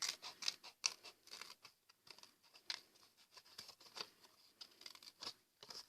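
Scissors snip around a paper butterfly template, a quick run of close, crisp cuts and paper rustles, fairly quiet.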